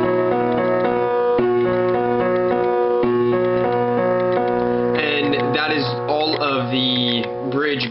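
Both hands play the bridge of a song, steady repeated chords with octaves ringing above; the texture grows busier and more shimmering toward the end, close and unaccompanied.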